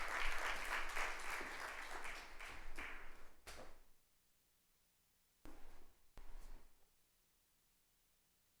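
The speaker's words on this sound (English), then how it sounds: "a round of applause for the Chief Minister and for our honored guest" A hall audience at a CBU annual general assembly opening ceremony and Hall of Fame induction applauds the Chief Minister and an honored guest, with dense clapping that fades out, followed by two short bursts of noise after a quiet gap.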